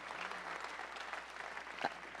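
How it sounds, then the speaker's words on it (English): A film festival panel audience claps steadily in a packed room, a dense even patter heard at a moderate distance with no voices over it. "Yes, clap for that"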